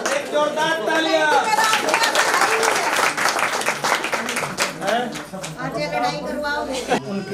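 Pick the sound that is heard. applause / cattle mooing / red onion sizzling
applause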